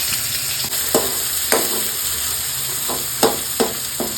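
Chopped onions go into hot oil with ginger and garlic for egg curry, sizzling loudly and steadily up close while a spoon scrapes and knocks against the pan every second or so.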